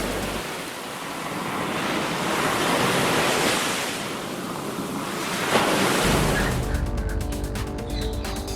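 Ocean waves at sea, heard right after someone jumps in: continuous surf wash and gusting wind noise swell and ease, then the texture shifts near the end, with no voices.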